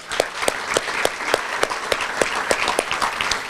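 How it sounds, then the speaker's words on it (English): Luncheon audience at a hotel conference center breaks into a round of applause, dense steady clapping with sharp individual claps throughout, moderately loud and close. "one round of applause"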